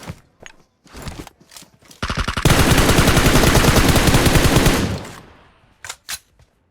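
Loud, close automatic gunfire in a shooting video game, a sustained rapid burst of about three seconds followed by a few isolated shots, with brief scattered sounds before and after.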